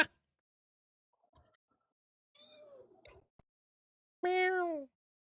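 House cats meow indoors, a faint short sound early on, then a clear, close, drawn-out meow near the end amid near silence.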